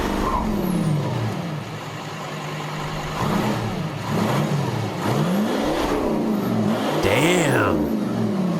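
A VW V12 TDI diesel engine revving, with rising and falling engine pitch sweeping up and down in several sharp revs over a steady mid-level drone, fairly close and loud.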